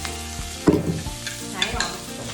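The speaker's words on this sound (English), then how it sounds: "We wanna cook these onions off a little bit before we add our potatoes." Onions frying in butter and olive oil in a cast iron skillet, a steady close sizzle with a few scraping stirs and clinks over a short stretch, no voices.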